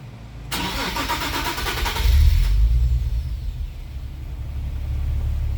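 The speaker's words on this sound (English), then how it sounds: "Okay, so the car is running." A Nissan 370Z engine with low power cranks long with rapid whirring starter bursts, then catches and settles into a steady low idle rumble, close by.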